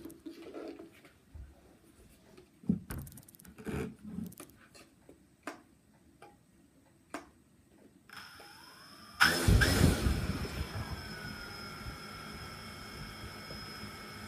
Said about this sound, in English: I'll just start it up quick. I'll let the propeller spin quick so you can see what it's like.